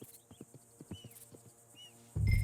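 A horse in the video game Red Dead Redemption 2 clops with a few hooves and snorts, then a louder rush of noise cuts in at the end, fairly quiet and close.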